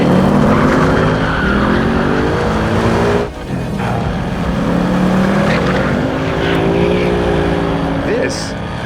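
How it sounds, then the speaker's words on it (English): A Ford Mustang doing burnouts, with loud engine roar and tire squeal running nearly throughout, briefly dipping mid-clip, under someone talking. "I'm gonna do burnouts the whole way there."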